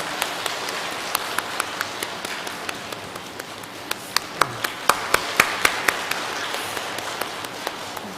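A Catholic congregation at a weekday Mass in Anjung parish church gives a round of applause, heard as sparse, scattered hand claps with a few sharper, louder claps through the middle and no talking over them.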